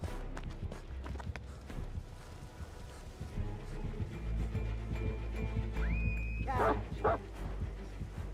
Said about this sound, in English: Here come the doggy.